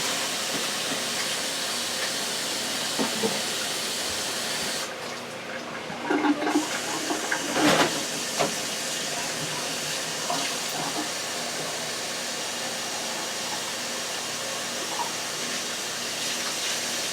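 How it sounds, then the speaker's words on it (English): Hot water pours steadily over bread in a bowl while homemade stuffing is being made, giving a long continuous hissing splash with a short dip and a few bubbly bursts midway. "I want to pour some hot water over the bread."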